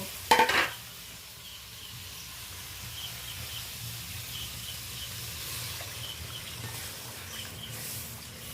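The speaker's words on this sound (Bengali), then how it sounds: "এই পর্যায়ে আমি নারকেলের দুধটা যোগ করে দেব।" Coconut milk poured into a pan of sizzling prawns for chingri malaikari: a brief clatter at the start, then a soft, steady bubbling sizzle that continues evenly.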